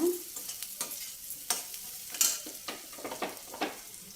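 Chopped onion frying in a pan for a radish-leaf curry, with a soft steady sizzle broken by scattered scrapes and clicks of a stirring spoon against the pan.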